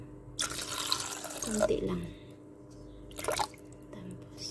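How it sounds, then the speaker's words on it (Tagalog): Water pours into brownie batter in a mixing bowl, a splashing, trickling gush in two bursts close by, with a voice speaking briefly. "Tapos, ilagay natin ang ating tubig."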